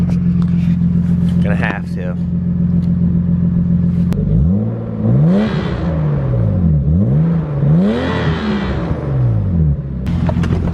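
A cold BMW E36 engine is revved in several rising and falling sweeps after idling, loud and close, with a person speaking briefly at the start.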